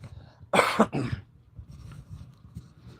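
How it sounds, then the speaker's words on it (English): Two harsh coughs close together, loud and near, followed by quiet room noise. "I got a cough."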